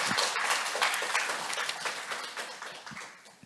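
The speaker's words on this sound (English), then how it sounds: "Please welcome him with a round of applause." Audience applause welcoming the speaker to the stage at a keynote session on CRISPR technology in Korea: a dense, even patter of many hands clapping, fairly loud and gradually fading.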